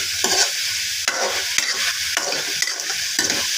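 Chicken and potatoes frying in a pan with onion, ginger paste, garlic paste and bay leaves, a steady sizzle broken by repeated scraping stirs of a spoon against the pan.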